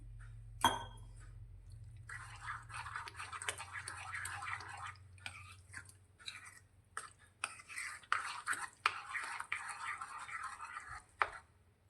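Soft scraping and light clinks of a spoon stirring green peas dhokla batter with water in a bowl, in irregular strokes, close and fairly quiet.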